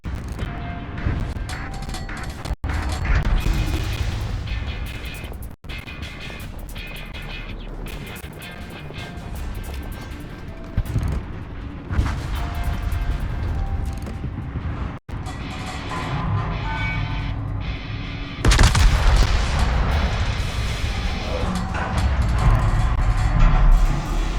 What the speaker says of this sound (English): What an absolutely devastating salvos on target Novosibirsk.